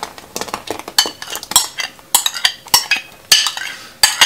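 A spoon stirs boiling milk mixed with sour yogurt in a metal pot for rasmalai, giving close, loud, irregular clinks and scrapes against the pot with short pauses between strokes.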